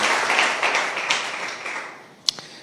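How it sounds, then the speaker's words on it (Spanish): Church congregation clapping together, a dense, steady wash of applause that fades gradually, with a single sharp tap near the end. "Podemos darle un aplauso al Señor"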